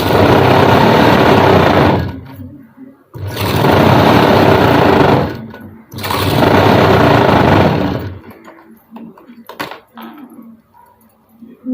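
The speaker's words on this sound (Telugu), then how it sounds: "మిషన్ అనేది కొద్దిగా సౌండ్ ఎక్కువగా ఉంటుందండి." A loud sewing machine stitches a blouse in three steady runs of about two seconds each, separated by short pauses, then falls quiet with faint handling noises.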